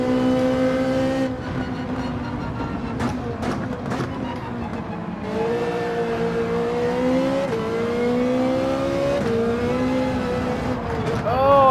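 Ferrari race car engine in Gran Turismo 7, heard as a steady whining drone that shifts up in pitch through gear changes over its whole length.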